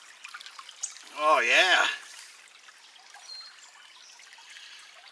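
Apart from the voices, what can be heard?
rinsing crushed material in water while gold prospecting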